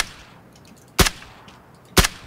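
Two sharp gunshots in the PUBG Battlegrounds battle royale game, loud, about one second apart, each a brief crack over quiet background.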